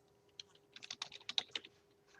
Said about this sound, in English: You'll put in your username, obviously.